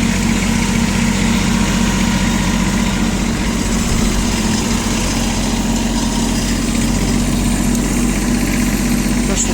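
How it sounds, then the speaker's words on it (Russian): An ISEKI SIAL TF223F Japanese compact tractor with a front-mounted rotary soil tiller runs loud and close, its engine droning steadily with a constant mechanical churn and no pauses. "Можем услышать здесь"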